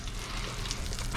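A wine, vinegar and butter sauce with peppercorns bubbles and sizzles steadily in a pan, a dense crackling hiss at close range with no talk.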